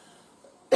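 A single short, sharp cough bursts out at the end, close and fairly loud, after a moment of near silence.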